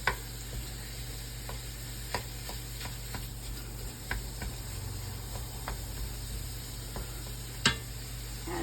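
Gravy cooks in a pan with a low, steady sizzle, while occasional soft scrapes and clicks of a utensil stirring it surface now and then.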